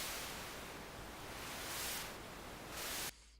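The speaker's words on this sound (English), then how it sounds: "And below that white noise generator, we have another filter, another low pass filter" A Soundation synth white noise generator hisses steadily through a low pass filter, a soft, dulled static wash that swells slightly before cutting off abruptly near the end.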